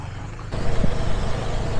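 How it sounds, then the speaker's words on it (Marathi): A KTM motorcycle rides along roads in Srinagar, a steady, loud engine and road rumble mixed with wind noise that swells midway. "आता आम्ही काश्मीरच्या रस्त्यांवर मस्त आपल्या KTMवर फिरतोय"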